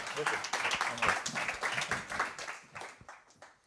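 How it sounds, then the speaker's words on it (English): Audience applause at a young founders incubator showcase, a dense patter of clapping that fills the room for a few seconds and fades toward the end, with a voice speaking over it. "Big round of applause for Up Imagery team."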